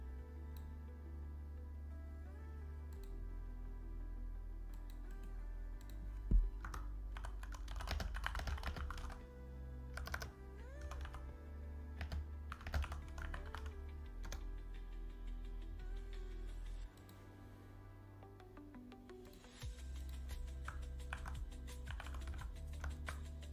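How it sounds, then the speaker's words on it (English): Quiet, irregular clacking of a computer keyboard being typed on close by, with steady keystrokes over a low background hum and no speech. "I'm typing in your ear."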